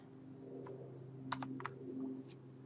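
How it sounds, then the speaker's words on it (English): A few quiet keyboard clicks, a short cluster of key presses close by, over a low steady hum. "press and hold the Start button on the keyboard and press the R key"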